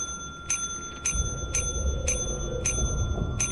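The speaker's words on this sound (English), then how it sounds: "And then you just need to ring the bell." A bell in the video game Lethal Company rings in a steady series of six bright, evenly spaced dings over a low background rumble.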